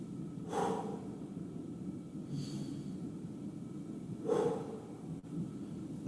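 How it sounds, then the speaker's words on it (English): Slow, deep breaths taken during a guided stretching exercise, with two distinct audible inhale-exhale swells separated by quiet pauses over a low steady background. "Two more deep breaths with me now."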